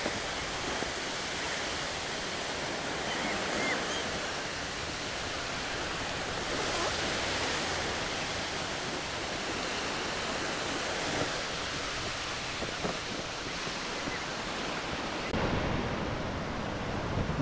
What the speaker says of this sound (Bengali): আর এই সমুদ্রের গর্জন আপনাদের শুনতে কিন্তু বেশ ভালোই লাগবে